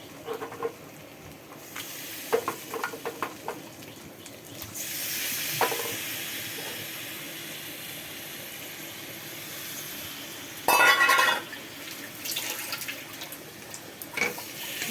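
Marinated chicken with Kashmiri chili powder hitting a hot pan: a soft sizzle swelling into a steady hiss, with scattered clinks of stirring and a brief louder splash of liquid, no one speaking.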